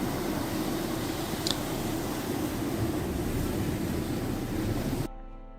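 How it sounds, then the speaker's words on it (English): A real seaside recording of ocean waves, a constant rushing roar of surf that fills nearly the whole stretch before dropping off abruptly near the end, with no one talking. "You like the ocean sounds?"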